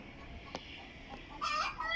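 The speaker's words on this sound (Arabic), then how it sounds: "شوفوا هاي دجاجة يم الباب، هاي آخر دجاجة فايتة جوا طبعا." Chickens on a farm yard in the late afternoon give soft clucks and a brief louder squawk, faint and fairly distant over quiet outdoor background, with no talking.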